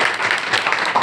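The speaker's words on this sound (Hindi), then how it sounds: "तालियां बजाएं" An audience at a career counselling talk claps in a brief, dense burst of applause, loud and close, with no words spoken.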